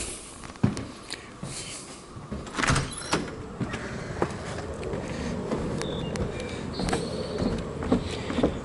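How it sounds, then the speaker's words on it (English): A garage door in a house interior is lowered by its electric opener. It gives a steady mechanical rumble and rattle with scattered clicks and knocks for about nine seconds, close by and with no talking. "door opener to be able to get the garage door down"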